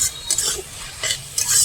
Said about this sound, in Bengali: ছেঁচি শাক ভাজা হচ্ছে।